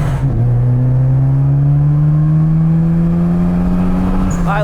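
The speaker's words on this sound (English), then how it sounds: "I like that supercharger." Supercharged Mini Cooper engine pulling hard under acceleration, a loud, steady rising drone that climbs in pitch for several seconds before easing off near the end, heard up close with no talk.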